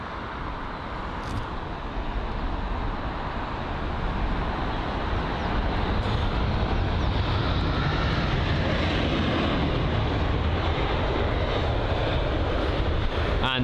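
An Aer Lingus A320-200 jet flying over near London Heathrow, a steady broad engine roar that swells slightly as it passes, with no voices.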